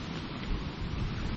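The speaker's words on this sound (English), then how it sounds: "it is lightning, thundering." Steady rain and a low rumble of thunder during a night storm on a high hillside in the Cambrian Mountains, with wind. A dense, continuous wash of noise heard close to a bivvy bag, without voices.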